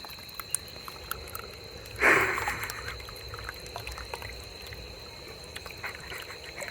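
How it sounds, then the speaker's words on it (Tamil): Tamarind liquid being poured into a dried fish curry, a brief splashy pour that swells suddenly, then trails off into light dribbling over a quiet, hissy background, with no talking. "அடுத்து மக்களே பாருங்க பாட்டியம்மா இப்போ புளி சேர்க்குறாங்க"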